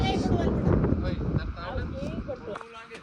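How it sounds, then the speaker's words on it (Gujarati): Wind gusts across the open slopes of Mount Girnar during a monsoon trek in Junagadh, Gujarat, a loud buffeting rush on the microphone throughout, with a voice talking over it. "મસ્તનો મસ્તનો મસ્તનો પવન છે."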